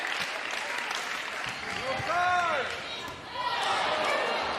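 A crowd cheers and applauds loudly at an ACC college volleyball match between Virginia and Louisville, a dense, sustained roar that swells and dips, with a commentator talking over it.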